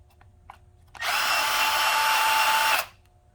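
A Milwaukee cordless subcompact bandsaw spins up sharply and runs at a steady, fairly loud whine for about two seconds, then its electric brake stops it abruptly, leaving quiet room tone.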